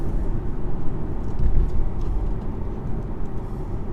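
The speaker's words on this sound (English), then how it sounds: "One thing I want you to note is just how fast this gearbox is as well. For a torque converter, it just blitzes through gears." A 2018 BMW 420i xDrive pulls hard under acceleration, a steady low engine drone and road rumble inside the cabin with the quick torque-converter automatic shifts barely distinct, loud and continuous.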